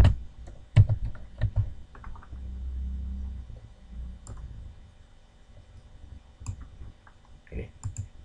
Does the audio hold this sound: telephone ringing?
no